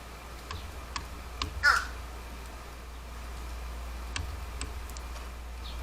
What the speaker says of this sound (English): This crow uses the jackhammer approach with his peanut.